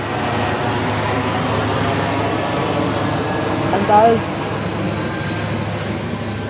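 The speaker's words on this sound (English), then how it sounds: "That's a military jet over my head." A military jet passes overhead outdoors, a loud, steady broad roar filling the whole stretch with a brief swell near the middle, a single spoken word barely breaking through.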